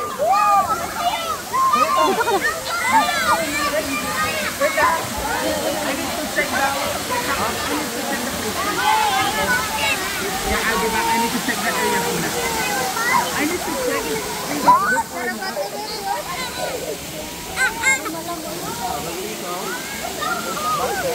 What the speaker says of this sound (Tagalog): Tingnan nyo naman ang falls.